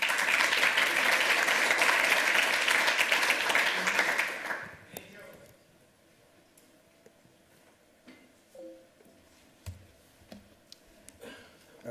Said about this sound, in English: Round of applause for whatever made that work